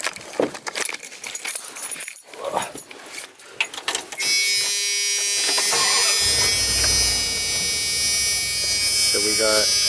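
Camper van engine cranking and catching after some handling and rustling noise, then settling into a steady loud idle hum with a faint whine on top.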